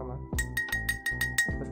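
A water-filled drinking glass struck repeatedly with a small object, a rapid run of bright ringing clinks holding one sustained pitch over a low droning background.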